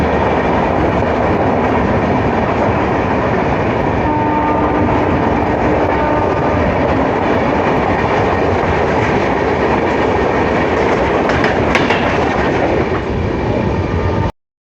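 The Secunderabad–Silchar Express runs at speed, heard from inside as a loud, continuous rumble and rattle of the carriage on the rails, steady throughout before cutting off abruptly.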